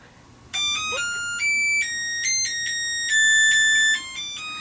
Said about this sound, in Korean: 알람소리와 함께 기상.